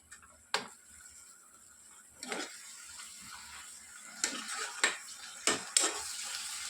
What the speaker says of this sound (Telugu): వేసి ఇప్పుడు బాగా మిక్స్ చేసుకొని దగ్గర పడేంత వరకు ఫ్రై చేసుకోవాలి